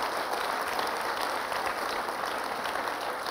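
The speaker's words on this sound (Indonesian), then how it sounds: "Kita berikan aplaus." A seated audience at a televised talk show applauds steadily, a dense even wash of clapping with no breaks, at moderate level and somewhat distant.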